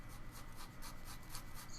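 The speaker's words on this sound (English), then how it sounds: "it'll start skidding over the surface of the paper" Pencil drawing on paper, a soft continuous scratchy rubbing with rhythmic strokes, faint and close, with no talking.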